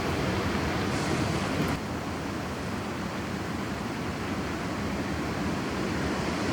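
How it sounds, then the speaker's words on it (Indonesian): Wind and rain at a mountain campsite during the rainy season, a steady dense broadband rush that holds constant throughout with no voices. "suara anginnya tuh enak banget gitu. Suara angin, suara hujan."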